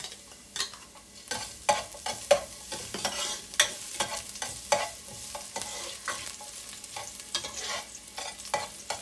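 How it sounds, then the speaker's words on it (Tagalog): Minced garlic sizzling in hot oil in a pan for Filipino chicken tinola, a steady crackling fry broken by frequent sharp scrapes and knocks of a spoon stirring, close and moderately loud with no talk. "pag mainit na po yung oil, ilagay na po natin tong garlic"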